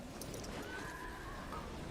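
A horse neighs in the World of Warcraft video game: a short whinny rising over dense, busy battle noise.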